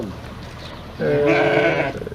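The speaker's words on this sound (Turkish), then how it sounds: "Hem de koyunlarımızı teslim ettik ee, Cuma Bey'e." A single sheep bleats loudly and close by, a wavering nasal cry lasting about a second over soft background noise.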